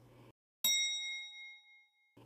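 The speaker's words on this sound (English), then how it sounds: "It was a bell. The door of the next lift was opening." A lift arrival bell gives one bright, clear ding that rings on and slowly fades in a quiet corridor, with faint rustling before and after.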